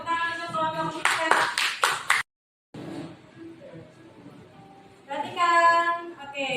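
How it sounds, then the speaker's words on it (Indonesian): A classroom group claps for a presentation group during a lesson. Brief rhythmic clapping comes first, then there is a pause, and then voices talk. "Tepuk tangan untuk kelompok kita."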